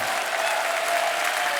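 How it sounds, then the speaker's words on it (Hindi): Steady studio audience applause on a TV comedy show fills the whole stretch, dense and even, with no break and no voices standing out. "एक बार जोरदार तालियां हमारे मेहमानों के लिए।"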